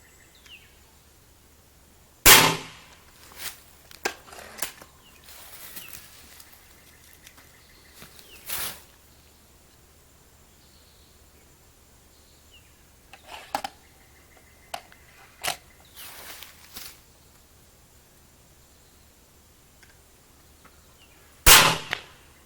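Beeman RS2 pellet air rifle fired at a cardboard tube from about 25 to 30 feet, sharp sparse cracks and pops spread across a quiet background, with a few softer clicks and taps between the louder shots.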